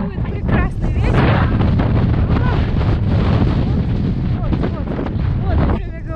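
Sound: strong wind

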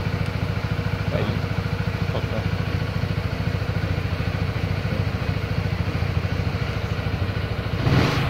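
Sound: BMW C 400 X scooter engine running

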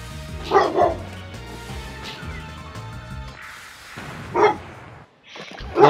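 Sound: dog barking at nothing

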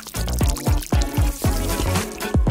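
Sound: water poured into a detergent-bottle doll bathtub

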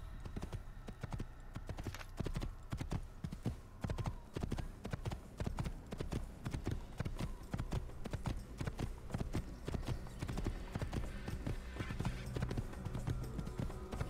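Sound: horse hooves clip-clopping, from video game Assassin's Creed

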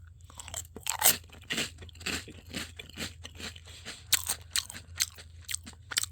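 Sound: biting into chocolate-coated shrimp chips

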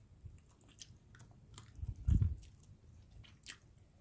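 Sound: chewing and eating pork slices

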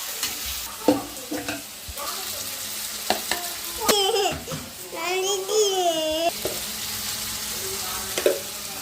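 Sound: onions, green chillies and tomatoes frying with spices in pan

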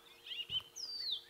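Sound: white-browed scrub robin calling

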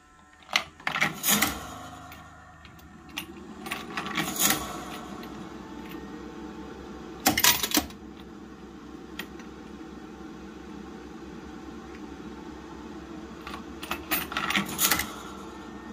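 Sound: autofeeder machine running and feeding

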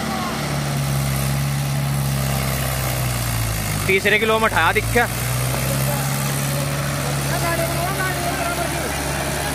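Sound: Mahindra 575 tractor engine idling

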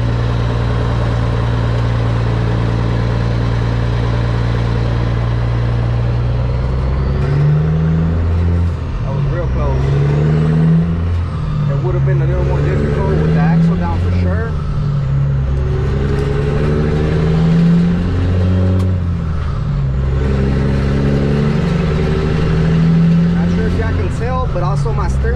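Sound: Kenworth T800 truck driving

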